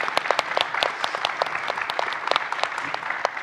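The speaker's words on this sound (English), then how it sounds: "Let's give our panelists a round of applause" An audience claps for keynote panelists, a scattered, moderately dense round of individual claps with distinct sharp hits throughout.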